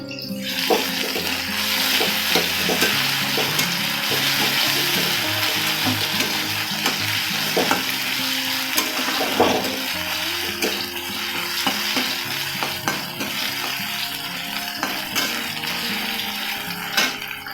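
Ginger paste and fried rohu fish are stirred in a pan with a steady sizzle, punctuated by scraping and clinking of the spatula against the metal in an irregular rhythm.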